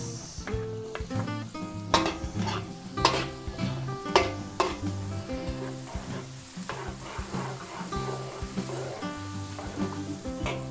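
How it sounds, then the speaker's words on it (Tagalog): Garlic and onion sauté in a pan with a soft sizzle beneath frequent close metallic scrapes and taps of a utensil stirring, in a rhythmic, busy pattern, with no talk. "Ating bawang, igisa na po natin, sibuyas,"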